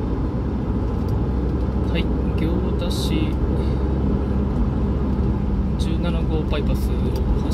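A car cruises along the Route 17 bypass in Gyoda, Saitama, giving a steady, close road-and-engine rumble from inside the cabin that holds level throughout, with a few faint higher noises passing over it.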